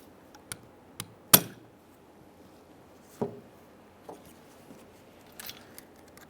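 A small clamp is tapped into a groove on a front drive axle shaft of a 1994-2001 Dodge Ram 4WD, giving sharp metallic taps spaced irregularly, one louder strike among quieter knocks, close and without speech.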